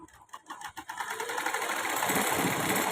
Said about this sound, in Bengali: আমি পুরো সেলাই করে নিচ্ছি কাপড় যেন সমান সমান থাকে ঠিক ঘেরের সাথে ঠিক মিলে যায়